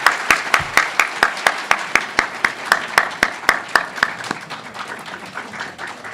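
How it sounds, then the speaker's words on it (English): A small audience at a moot court finals claps for the judges, sharp distinct claps in a quick even rhythm that thin out and soften toward the end. "can we have a really broad round of applause for our three judges from this evening?"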